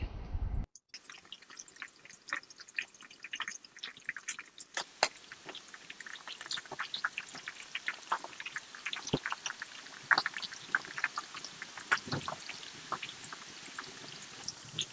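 Chicken leg pieces dropped into hot oil for deep frying, giving a steady, close crackling sizzle with dense popping and spitting that runs throughout, with no talking.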